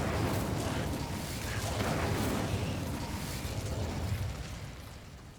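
A Bombarda explosion spell goes off in Hogwarts Legacy, a broad rumbling blast that swells and slowly fades over several seconds, fairly quiet overall.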